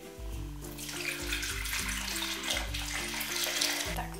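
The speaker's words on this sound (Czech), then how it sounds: "teď si odměřím 250 ml vody" Tap water runs steadily into a measuring vessel in a home kitchen while preparing an apple cake, a close, continuous pour at a moderate level with no talking.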